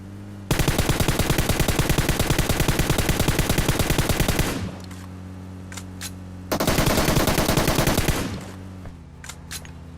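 Two long, loud bursts of rapid automatic fire from an M16 rifle in a shooter video game, each lasting a few seconds with sharp clicks and faint tones in the pauses between, no talk over it.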